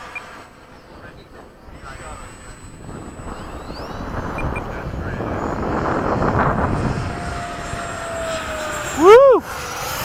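RC ducted-fan jets, a 70mm Skysword, a 90mm Yak-130 and an 80mm F-4, fly in formation with a rising and fading turbine whine as they pass at a distance, while people talk nearby and a sharp whistle cuts in near the end.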